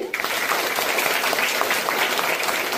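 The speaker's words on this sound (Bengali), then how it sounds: "তোমরা সবাই জুড়ে হাততালি।" Audience applauding at a school cheque distribution ceremony, a dense, steady clatter of many hands clapping together that rises quickly at the start and holds at an even, loud level throughout.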